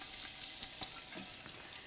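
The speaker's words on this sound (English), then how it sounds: "it's starting to crackle and sizzle just a little bit." Sweet onion and leek sizzle in an oiled pan, a soft steady crackle with small pops throughout, close and continuous with no talking.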